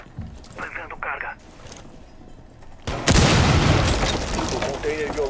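A thrown charge detonates in the Rainbow Six Siege video game: a sudden, loud, close boom about halfway through that lingers as a broad roar, after a quieter stretch with some speech-like sounds.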